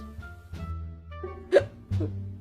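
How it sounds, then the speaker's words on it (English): Cartoon character Oddball hiccups in an animated scene, with a couple of short, sharp hiccups standing out near the middle of the clip over a quiet background of music and low tones. "Oddball's hiccups have lasted for 2 days, and we can't get rid of them"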